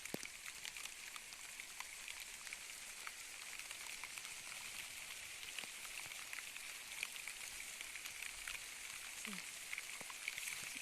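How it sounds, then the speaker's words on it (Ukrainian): Heavy rain falling steadily, dense pattering of large drops with occasional louder individual hits, close and continuous with no talking. "О, такий великий дощ."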